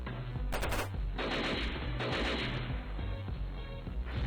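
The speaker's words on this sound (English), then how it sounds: "I want to see Jeb shoot people with guns. Mini guns." Minigun fire in a Madness Combat animation, dense rapid bursts of automatic gunfire, loud and continuous with short breaks between the bursts, no talking.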